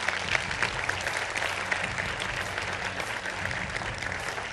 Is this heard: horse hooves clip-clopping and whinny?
no